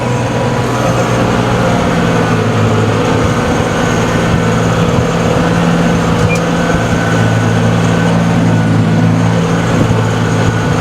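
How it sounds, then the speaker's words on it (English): A tractor engine revs its PTO up to working RPM, giving a loud, steady, unbroken drone with a low hum that holds evenly throughout, with no talking. "Get our PTO up to the right RPM, and away we go."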